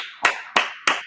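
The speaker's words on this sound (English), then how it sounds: "Clap it up." A class claps hands together in three sharp, evenly spaced claps, close and crisp, with no voices.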